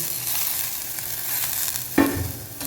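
Green chillies frying in hot oil with cumin for a Chettinad beef gravy, a steady close sizzle with a sharp stir or scrape near the end, no voices.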